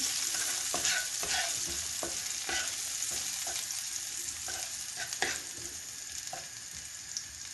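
Garlic and basil stalks fry in a hot pan with a steady, close sizzle, broken by frequent scraping stirs and light clicks of a utensil against the pan, and no voices.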